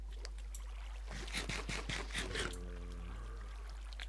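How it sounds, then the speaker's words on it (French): A Minecraft character jumps into water, giving a brief splashy burst of watery noise in the middle, followed by steady tonal game sounds over a constant low hum. "Je vais vite sauter dans l'eau."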